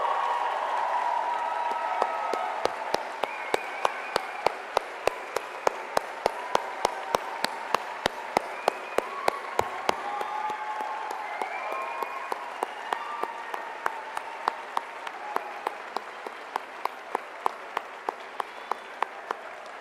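A large audience at a university commencement ceremony applauds in a sustained, dense wash of clapping that runs unbroken throughout, with a few sharper individual claps standing out near the front.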